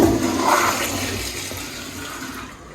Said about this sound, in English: Got a Kohler toilet. I guess this is a 1 gallon flush.